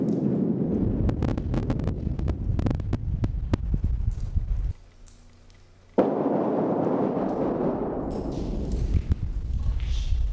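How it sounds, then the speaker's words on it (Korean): A heavy mine blast rumbles through the Yemisan valley, a dense, roaring wash of low noise with scattered cracks, briefly dropping away before a second deep surge rolls on, distant and sustained. "예미산 골짜기를 울리는 묵직한 폭발음"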